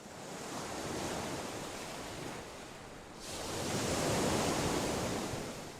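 Ocean waves wash onto a beach below an eroding dune in a steady broadband rush, swelling louder as a bigger wave breaks midway, with some wind in the background.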